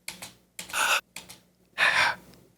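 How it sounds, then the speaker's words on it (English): Sampled breath sounds used in music beats: a sequence of close, airy inhales and exhales, two quick short breaths followed by longer, louder ones, alone without other sound. "then I have these breaths that I use"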